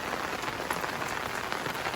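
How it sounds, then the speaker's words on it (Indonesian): Rain falls in a steady, dense hiss of drops hitting surfaces, close and even throughout, with no talking. "Hujan deh."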